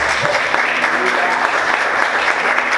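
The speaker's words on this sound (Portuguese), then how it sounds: "Vamos aplaudir Jesus?" A church congregation claps and cheers in warm, sustained applause that fills the space evenly for its whole length, with voices faintly mixed in.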